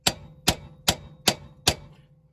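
Five evenly spaced sharp metallic strikes ring out close by as a nut splitter works on a seized nut on a 2009 Dodge Caravan sway bar link.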